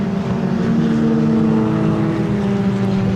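Historic Formula Ford racing cars at Snetterton drone loudly and steadily, their engines blending into one continuous buzzing roar at close to mid distance, with no speech.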